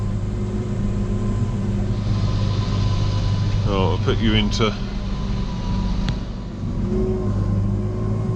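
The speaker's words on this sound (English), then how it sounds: "the tractor will almost be ticking over them when it's pumping" A tractor idles low and steady while driving a slurry pump through its PTO, a constant engine drone under a man's brief speech.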